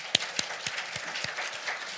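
Rhythmic clapping during a Sunday church service, with sharp, evenly spaced claps, roughly three or four per second, fairly close and moderately loud.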